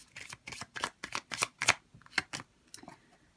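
Tarot cards are shuffled and drawn close-up, a quick run of crisp riffling snaps and slaps coming in rapid bursts that slow and fade toward the end, with no talk.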